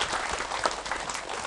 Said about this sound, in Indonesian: Terima kasih tepuk tangan yang meriah buat Ustadz Awi Maki.